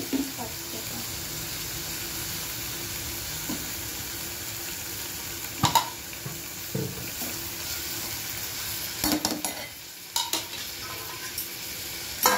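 Dried small shrimp fry in a pan with kokum as a little water goes in, bringing a steady close sizzle with scraping stirs and a few louder clatters of utensils.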